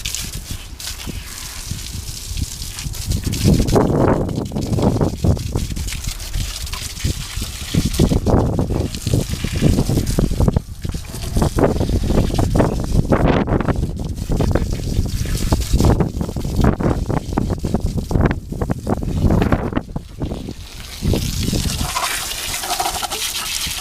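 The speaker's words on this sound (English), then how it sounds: "just wash it through with water." Water is hosed through a 2008 Honda CBR1000RR motorcycle chain outdoors, a continuous splashing gush with bursts of spray and wind buffeting, loud and close throughout.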